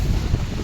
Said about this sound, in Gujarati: આ વાવાઝોડું પવન એવો છે કે એની તમે વાત પૂછોમાં, એવો પવન આવવા માંડ્યો છે